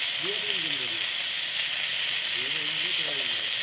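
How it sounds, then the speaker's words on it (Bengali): Chili powder sizzling as it hits hot oil in a pan, a steady bright hiss of frying while a voice speaks briefly near the start and again toward the end. "এবারে আমি এখানে দিয়ে দিচ্ছি লঙ্কার গুঁড়ো"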